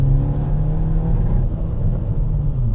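Skoda Fabia VRS 1.9 TDI diesel engine revving loudly on a missed gear, a dense, close droning roar with a steady low rumble and no talk.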